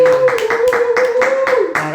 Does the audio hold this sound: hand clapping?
yes